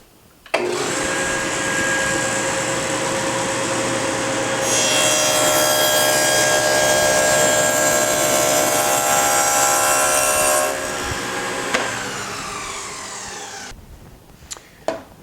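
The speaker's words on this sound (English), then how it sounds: "I'm going to push this in over this dado stack about halfway and then stop the saw" A table saw with a dado stack cuts partway into plywood. The close, loud whine rises in pitch with the grinding rasp of the cut, then the saw is stopped and winds down, followed by a few light knocks, with no talking.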